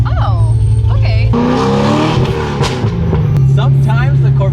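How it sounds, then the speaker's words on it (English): A loud BMW M3 drives with a steady, droning engine note that rises and shifts as it revs, close up and continuous under people talking inside the car. "this car is very loud and it can get us in a lot of trouble very fast"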